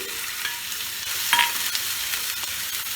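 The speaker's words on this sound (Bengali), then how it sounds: "এবার এতে আমি দেবো পেঁয়াজ বাটা।" Onion paste fries in hot oil with tempered spices, giving a loud, steady, close sizzle with a brief scrape of stirring partway through and no talking.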